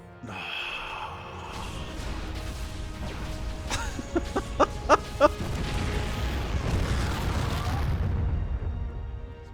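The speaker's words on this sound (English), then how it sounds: "Pretty dramatic explosion there." Explosion in the StarCraft 2 real-time strategy game: a rumbling blast with a rapid series of sharp crackling pops in the middle, set against steady loud game ambience.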